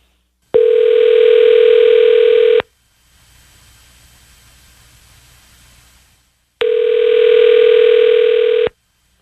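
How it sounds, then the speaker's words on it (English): A phone call being placed: a loud steady dial-type tone for about two seconds, a stretch of faint hiss, then the same steady tone again for another two seconds. "Dialing now."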